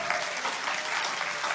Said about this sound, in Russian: Дай хорошие аплодисменты Господу.